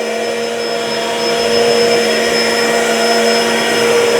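The vacuum motor of a Bissell SpinWave +Vac spin mop runs continuously at a loud, steady whine with a constant hum, close by and uninterrupted.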